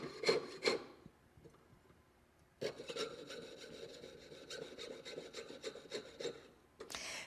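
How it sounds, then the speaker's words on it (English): A jeweler's saw cuts through silver sheet with a rapid rhythmic rasping of fine strokes, close and quiet, starting with a few short strokes, then a pause, then a longer continuous run of sawing, with no voices. "Let your jeweler's saw do the work."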